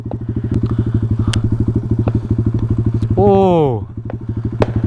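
Pit bike engine chugging at night with a steady, fast thumping single-cylinder beat, loud and close, while someone briefly speaks over it.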